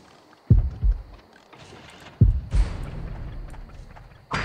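Low, muffled heartbeat thumps from the Horrorfield horror video game sound close by, two paired beats spaced apart over faint ambient hum, with no voices.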